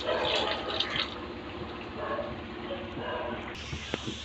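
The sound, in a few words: water being poured into a pot for vegetable biryani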